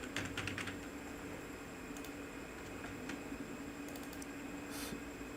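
Code is typed on a computer keyboard, with quick clusters of close, crisp key clicks separated by pauses over a faint steady hum.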